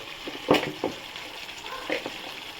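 Turmeric and ground spices fry in a pan for mutton curry, giving a soft sizzle broken by a few sharp scraping stirs close by, with a faint voice in the background.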